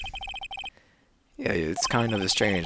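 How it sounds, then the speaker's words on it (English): A cell phone ringtone from the video game Phoenix Wright: Ace Attorney plays as a short run of bright, repeated electronic chirps in quick bursts, then stops; talking follows after a short pause. "I heard a phone ring just now."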